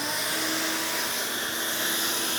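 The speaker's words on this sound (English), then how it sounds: "you can hook up a vacuum hose to it and it'll suck out that debris as I drill." A shop vacuum hose connected to a pocket hole drill jig gives a steady, loud, broadband suction hiss throughout, with no breaks and no voices.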